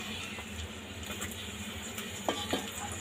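Sliced onion frying in hot oil in a home kitchen pan, a steady close sizzle with a couple of faint utensil clicks near the end, no talking.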